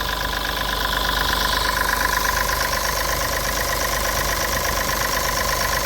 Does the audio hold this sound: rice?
no